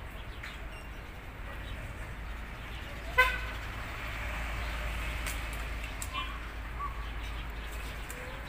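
An evening dolmuş minibus passes on a busy road, a swell of steady traffic rumble, with a brief horn toot and a few birds calling in the background.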